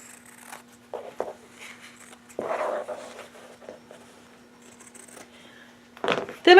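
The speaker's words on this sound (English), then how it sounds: "I'm going to grab my scissors and I'm going to cut this." Scissors snip through material during cushion making, giving a few short crisp cuts with quiet pauses and handling rustles between them, and a faint steady hum in the background.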